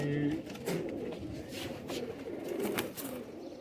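Sialkoti breed pigeons coo softly at moderate distance, low repeated murmuring calls over a rustling background, with voices talking nearby.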